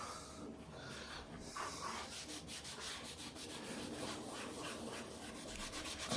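Fresh car paint being sanded by hand, a continuous close rasping rub with repeated back-and-forth strokes, quiet and steady without speech.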